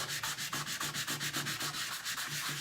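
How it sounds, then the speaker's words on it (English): Close, rhythmic scratching of a 150-grit sanding block on wooden furniture, quick even strokes repeating several times a second, alone without voices. "So I'm just going to take the sanding block. This is a 150 grit sanding block."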